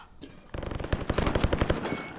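Gunfire in the video game Call of Duty: Modern Warfare comes as a fast burst of automatic shots after a short lead-in, loud, close and rhythmic for about two seconds.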